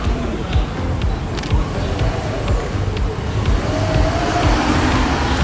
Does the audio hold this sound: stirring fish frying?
no